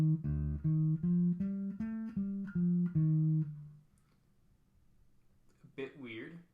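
An electric bass plays a short run of about seven distinct, evenly spaced low notes with a widened finger stretch, followed by a quiet pause and brief fumbling noise at the end.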